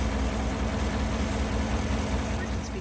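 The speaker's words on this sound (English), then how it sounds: "This is a 5-liter V8 engine paired with an automatic transmission, and it's a 4x4." A Ford F-150 XLT pickup with a 5-liter V8, automatic transmission and 4x4 idles steadily, a continuous, even engine rumble with no speech over it throughout.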